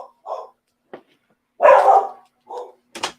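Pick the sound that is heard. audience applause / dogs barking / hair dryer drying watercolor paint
dogs barking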